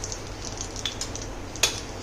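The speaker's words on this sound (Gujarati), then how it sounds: "તેલ ગરમ થાય એટલે આપણે એમાં 1 ચમચી નાની એટલું આપણે રાઈ નાખશું" Faint, steady sizzling of mustard seeds in hot oil, with a few soft crackles and one sharper pop near the end.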